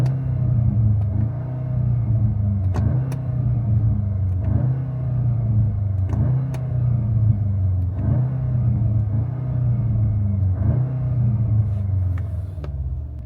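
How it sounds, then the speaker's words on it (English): Audi S3 exhaust in Dynamic Plus mode rising and falling in repeated low engine revs, with a sharp pop or crackle at the top of several pulls, close and steady throughout. "the S3 has Dynamic Plus, which makes the exhaust sound like 10 times better, and it kind of pops and crackles"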